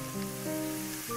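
Shallots frying in oil over medium heat, a steady soft sizzle and crackle close by, with faint tonal hum running underneath and no talking.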